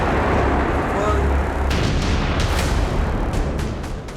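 An Israeli bunker buster bomb strikes Hamas tunnels in Gaza, producing a loud, continuous roar of blast rumble with repeated heavy booms that does not let up.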